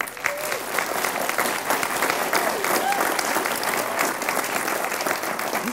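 An audience at an International Olympic Committee discussion event applauds warmly to welcome IOC President Jacques Rogge, with dense, sustained clapping from a large crowd and a voice faintly audible underneath.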